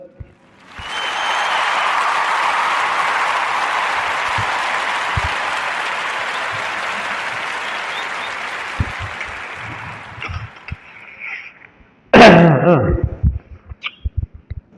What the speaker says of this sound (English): podcast round of applause for her.